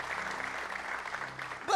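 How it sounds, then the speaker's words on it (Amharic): A church congregation claps together in sustained applause during a sermon, a dense even patter of hands close by, ending with a voice breaking in at the finish. "አጨብጭቡለት"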